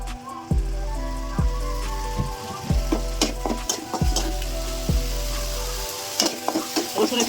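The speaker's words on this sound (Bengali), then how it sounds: "রসুন কিছুক্ষণ ভাজলাম পেঁয়াজের সাথে" Garlic fries in oil with onion paste for an egg korma, crackling and sizzling loudly up close while a spoon repeatedly scrapes and knocks against the pan in an uneven rhythm.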